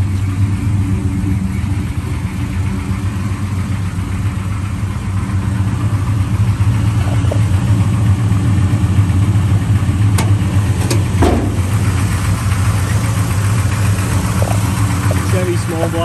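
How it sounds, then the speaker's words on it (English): A 1955 Chevrolet 210 with a small-block 350 V8 idles steadily and continuously, a low rumbling hum that stays fairly loud throughout, with a few faint clicks and knocks over the top. "Chevy small block 350."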